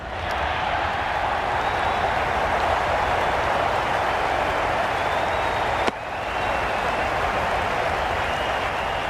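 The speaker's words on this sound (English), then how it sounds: "This match is getting unbelievably exciting and the crowd have joined the party. It's pretty noisy in the ground." Loud, steady roar of a large stadium crowd cheering during a Cricket 22 match between Peshawar Zalmi and Multan Sultans, a dense continuous wash of noise with a brief sharp break near the end.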